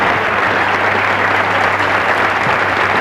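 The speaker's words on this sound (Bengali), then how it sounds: "হ্যাটস অফ, আমি একটা হাততালি দিই।" Applause from a large audience at a college-ground quiz competition during a national exhibition, a dense, steady wash of clapping filling the whole stretch without pause.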